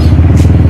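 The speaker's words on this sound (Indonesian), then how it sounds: "dalam rangka tes sound and performa knalpot racing yang udah dipasang di R15" Loud, close exhaust from a Yamaha R15 motorcycle fitted with a custom Termignoni racing exhaust, a rough, throbbing low rumble, steady and uninterrupted throughout the short moment.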